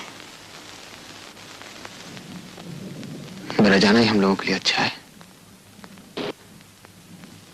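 Steady rain hisses in the background throughout while a person speaks briefly over it in the middle.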